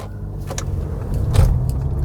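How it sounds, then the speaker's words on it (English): Muffled low rumble of a car interior while driving, a steady engine and road hum with a brief swell and faint rattles, no talking. "I am in the car, as you might have noticed by the background"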